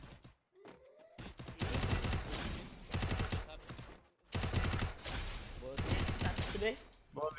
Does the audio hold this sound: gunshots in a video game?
yes